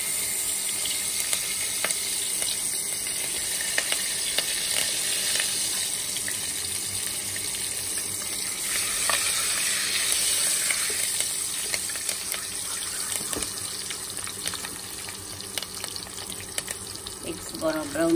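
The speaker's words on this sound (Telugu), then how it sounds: "గోల్డెన్ బ్రౌన్ వచ్చే వరకు వేయించుకుందాము." Eggs frying in oil in a pan, giving a steady hiss and sizzle that runs the whole length, with faint kitchen clatter and a brief clink near the end.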